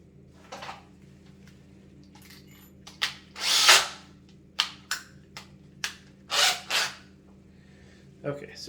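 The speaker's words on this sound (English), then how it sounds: "I will drill it in there" A power drill bores a hole for mounting a towel rack indoors, running in several short whirring bursts of varying length separated by pauses and light handling noises.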